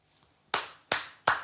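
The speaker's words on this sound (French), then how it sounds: "Applaudissements à vous" Three sharp, close hand claps spaced about a third of a second apart, each crisp and loud against a quiet background.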